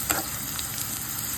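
Green chilies sizzle in a pan with hot oil as they are stirred, a steady close crackling hiss with a quick spatter at the start and light scraping movement, no speech.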